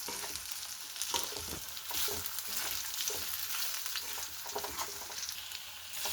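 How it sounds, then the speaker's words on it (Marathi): Chilli powder and turmeric fried in a kadhai for dal khichdi tempering, stirred so the steady loud sizzle carries repeated scraping strokes throughout, with no talk. "आता सगळं मिक्स करते"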